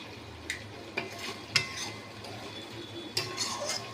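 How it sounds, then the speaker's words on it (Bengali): Mutton being stirred and sautéed in a pan for kosha mangsho, with a low sizzle under several sharp spoon scrapes and clinks against the metal, spaced irregularly and fairly close. "হ্যাঁ, আমি এরকম কষেই যাচ্ছি"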